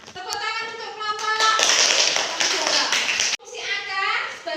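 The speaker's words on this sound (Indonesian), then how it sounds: "tepuk tangan untuk kelompok" Fourth-grade schoolchildren in an elementary classroom break into a burst of clapping for a group, the claps a loud patter sitting between stretches of children's voices.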